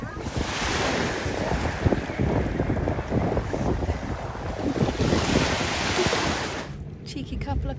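Sea waves washing and breaking at the shore with steady wind buffeting the microphone, a continuous close rushing surf that cuts off abruptly near the end.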